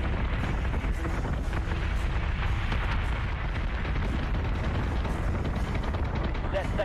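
Sustained fire from ship gun batteries in the space combat game Battlestar Galactica Deadlock, a dense continuous roar of rapid booming shots with no break.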